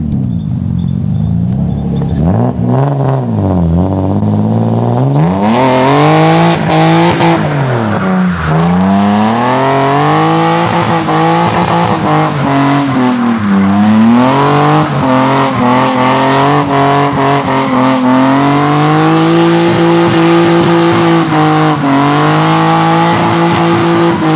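A Nissan R32 with an RB25DE engine revs hard, then launches and pulls through rising and falling engine notes, loud and close, with no talk.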